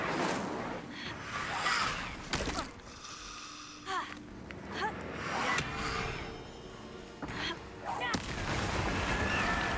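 Explosive barrels blowing up in the Hogwarts Legacy video game, several heavy booming blasts spread across the stretch with crackling spell effects between them, loud and close.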